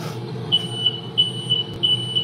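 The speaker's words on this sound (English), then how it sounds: "Every time she cooked, they set off the smoke detectors." A smoke detector goes off while sausages are cooking, sounding repeated high, shrill beeps in a steady rhythm over a low hum of background noise.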